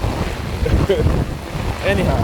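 Strong wind buffets the microphone outdoors in a rainstorm, a loud rumbling roar with gusts throughout, while someone speaks briefly over it.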